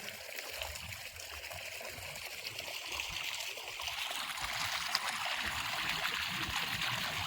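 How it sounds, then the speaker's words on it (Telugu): Stream water runs steadily past paddy fields in hilly country, a continuous close wash of flowing and trickling that grows slightly louder toward the end, with no voices. "నీళ్ళు బాగా వస్తున్నాయి."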